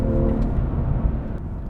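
Steady low engine hum and road whir from a 2020 BMW M340i sedan in motion, continuous and fairly loud throughout, with a faint brief tick near the end and no one speaking.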